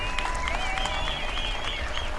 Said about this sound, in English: please give a big round of applause to the veterans and active duty in our United States